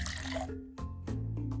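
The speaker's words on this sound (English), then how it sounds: "Click to give the plant a little bit of water." Water trickles and drips onto a plant in a Sesame Street video game, a few short splashy bursts with soft tonal chimes from the game in between, close and moderately loud.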